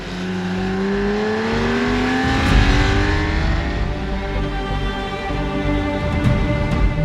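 A Porsche 911 Targa engine and exhaust pull hard under acceleration, the rising engine note climbing steadily and loud and close, with no voices over it.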